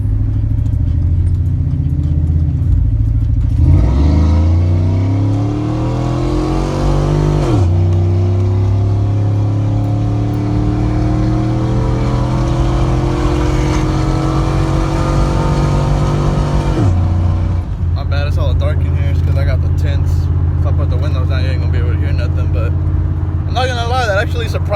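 A car with an NBS engine and a low oil pressure problem idles, then revs up and down through long rising and falling sweeps, loud and close, with some talk over parts of it.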